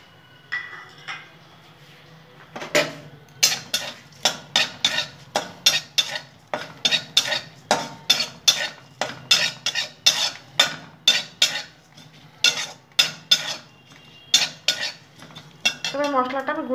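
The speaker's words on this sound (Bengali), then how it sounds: "আদা, কাঁচা লঙ্কা একটু নেড়ে নেব।" Green chili and ginger, with fennel seeds, being stirred in a pan: a close, steady run of sharp metallic spoon clinks and scrapes at about two per second, with no talking.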